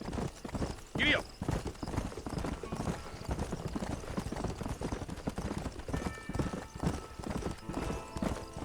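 A horse gallops in the Red Dead Redemption video game with a steady clip-clop of hooves and a brief whinny near the start. A voice speaks over the hoofbeats throughout, all at moderate loudness.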